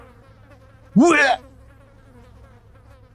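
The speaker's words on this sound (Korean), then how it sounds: "파리떼가 황급히 날아올라왔다." A swarm of flies bursts up in a brief, loud buzzing whine that swells and fades within about half a second over a low background hum, with a short spoken word heard.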